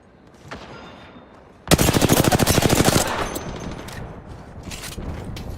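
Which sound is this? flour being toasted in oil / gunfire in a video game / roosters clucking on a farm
gunfire in a video game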